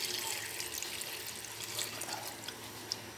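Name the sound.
water being poured into cooking pan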